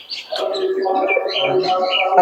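Giribaj pigeons cooing close by, a steady run of soft, low warbling calls layered with a few brighter chirps across the whole short stretch.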